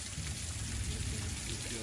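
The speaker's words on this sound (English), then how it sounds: "It's raining sideways." Heavy wind-driven rain pours down steadily and close, a dense continuous hiss of drops with low rumbling gusts, with faint voices mixed in.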